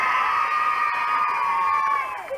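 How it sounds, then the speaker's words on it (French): A television studio crowd cheers and whoops for champions being introduced, a loud sustained shout of voices that drops off sharply near the end. "Oui, vous pouvez les applaudir"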